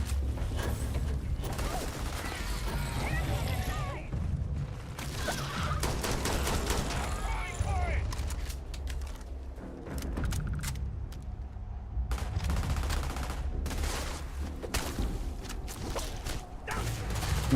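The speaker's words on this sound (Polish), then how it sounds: "tam strzela" Gunfire in the space video game Starfield: repeated bursts of shots and sharp cracks in uneven clusters, loud and close, over a constant low background rumble, with brief quieter gaps between volleys.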